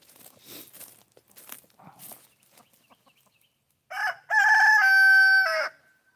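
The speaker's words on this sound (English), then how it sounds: "that's what you gotta deal with all the time with these chickens" Backyard farm chickens cluck scratchily at first, then a rooster lets out one loud, sustained crow near the end, close by and outdoors on a morning.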